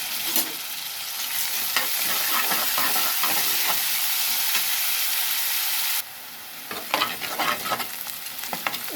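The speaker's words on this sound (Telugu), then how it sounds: "ఉల్లిపాయ ఎర్రగా వేగింది కదా ఫ్రెండ్స్" Onions with a pinch of coarse salt sizzle in a pan for a country chicken curry, a dense continuous hiss with scattered spatula scrapes, dipping briefly quieter before the crackle resumes, close and without talk.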